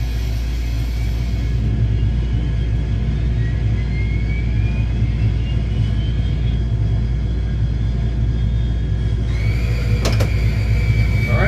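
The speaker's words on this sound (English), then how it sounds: "Number 2 engine start." A simulated T-2C Buckeye jet engine spooling up during a number two engine start, a steady loud low rumble with rising whining tones and a sharp crackling burst near the end, no talking.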